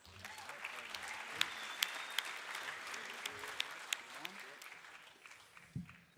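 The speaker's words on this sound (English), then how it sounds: "How about we give them a round of applause?" An audience at a desert race presentation applauds riders on stage, a soft, dense wash of clapping with a few sharper claps standing out, heard from a distance under some crowd murmur.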